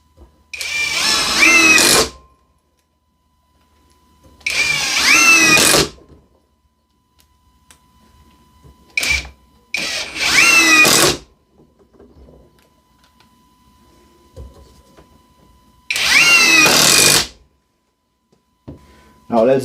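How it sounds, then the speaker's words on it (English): Ryobi and CAT cordless drivers on their highest torque setting run four screws into wood, each a loud whirring burst of a couple of seconds with pauses between, and a faint tone and light clatter in the gaps. "Let's run our 4 screws in."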